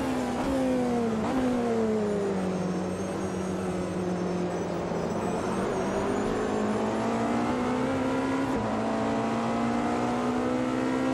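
A race car in Automobilista 2 on the 24 Hours of Le Mans circuit accelerates hard, its engine note climbing and dropping through gear changes, loud, close and continuous throughout.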